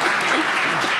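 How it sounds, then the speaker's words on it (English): Audience applause at a comedy show, a brief, dense burst of clapping from a crowd, loud and steady throughout. "I think that's worthy of a round of applause."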